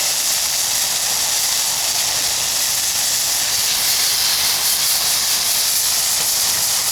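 Burgers sizzle on a portable RAD CAMP pop-up camping stove grill, a steady close hiss of frying fat that runs unbroken throughout with no talking.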